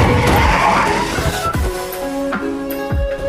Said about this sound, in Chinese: 李唐突然猛踩油门冲到了一边